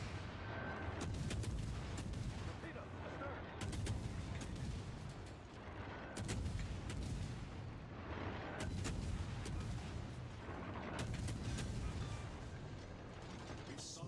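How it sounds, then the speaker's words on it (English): Warship guns fire in World of Warships Legends on PlayStation 5, a Kagero destroyer in the fight. Heavy broadband blasts recur every two to three seconds over a constant loud rumble, with no voices. "Now he's got the guns going."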